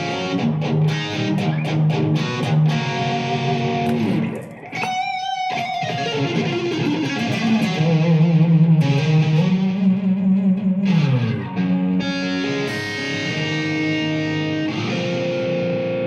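High-gain distortion from a Blackstar ID Core Stereo 10 V3 guitar amp at low volume, dense sustained chords and riffs with feedback trying to swell up, one brief drop near the middle, then heavy playing resumes.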